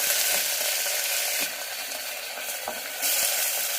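Mustard seeds, urad dal and dal sizzle and crackle steadily in hot oil, a loud, continuous frying hiss with small popping bursts, heard alone with no talking.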